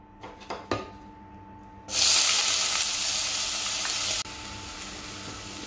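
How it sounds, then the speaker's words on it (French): Chopped onion dropped into three spoonfuls of hot olive oil bursts into a loud, steady sizzle after a few quiet clicks, then continues slightly softer as the onion fries for a moussaka sauce. "j'ai fait chauffer 3 cuillères à soupe d'huile d'olive. Je vais ajouter mon oignon haché."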